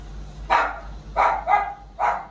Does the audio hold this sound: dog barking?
yes